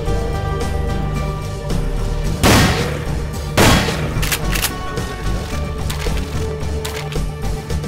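Automatic shotgun fire in GoldenEye: Source, a Team Deathmatch match on the Aztec map, with two loud, sharp blasts about a second apart standing out over a dense, busy game soundscape.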